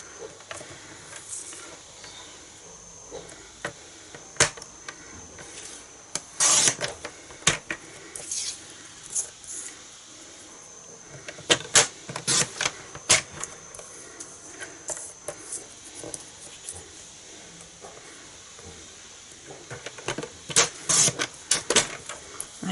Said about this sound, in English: Bring our trimmer out, and we're just going to cut this out freehand.